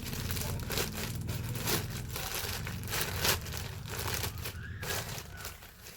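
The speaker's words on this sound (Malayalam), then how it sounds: "ഞാൻ കൊറിയർ പൊട്ടിക്കുകയാണ് കേട്ടോ" Crinkling and tearing of plastic packaging as a parcel is ripped open, rustling in uneven bursts close up.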